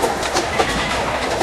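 A train rolls steadily past with rhythmic clickety-clack of wagons on the rails, loud and continuous throughout, in an AI-generated scene.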